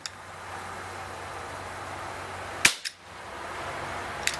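A Crosman 357 CO2 pellet revolver fires a single .177 shot, one sharp, fairly faint crack with a brief hiss after it, set against quiet background noise.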